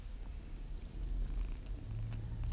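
A cat purrs steadily and close up, a low continuous rumble with no other sounds.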